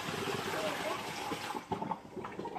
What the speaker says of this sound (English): I am going to dump out the noodle water that we were just cooked my noodles in.